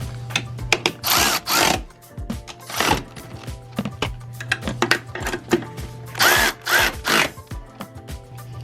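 A power tool tightens strut nuts on a Subaru Crosstrek in repeated short bursts, loud whirring pulses separated by pauses, over a steady low hum.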